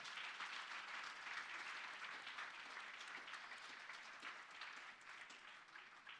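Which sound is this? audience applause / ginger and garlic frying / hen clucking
audience applause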